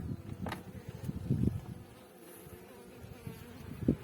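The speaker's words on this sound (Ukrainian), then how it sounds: "Бджоли якісь там є пару штук" Low buzzing of a few honeybees at a hive drifts in and out, with a few closer droning passes over a quiet background.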